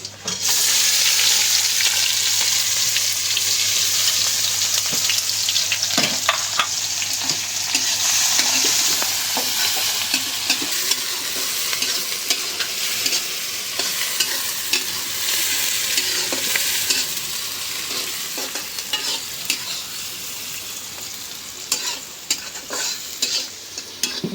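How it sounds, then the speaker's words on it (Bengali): Onions fried in a pan until brown, a dense steady sizzle with frequent scraping strokes of a spoon across the pan, close and loud, continuing unbroken without speech. "পেঁয়াজটা একেবারে বাদামি কালার করে নিলাম।"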